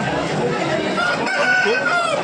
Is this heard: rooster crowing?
yes